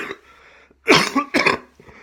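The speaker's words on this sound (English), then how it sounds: "Oh, still got this cough" A man coughs twice in quick succession, close and loud, with a faint throat-clearing rasp just before.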